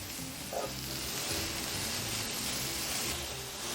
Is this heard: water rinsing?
no